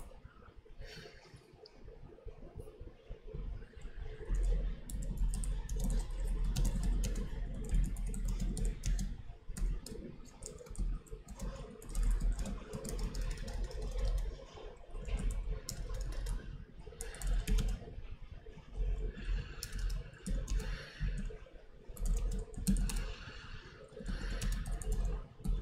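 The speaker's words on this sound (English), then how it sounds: "So now I'm typing and not talking to you, but you can watch me type." Steady typing on a computer keyboard, a dense run of clicks and key taps continuing for the whole stretch at moderate loudness with a low background hum and no talking.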